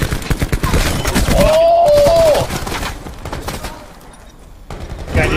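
Rapid gunshots ring out in Call of Duty Blackout, a loud fast volley of repeated cracks, followed by a few scattered shots as things quiet down, with a groan-like voice partway through.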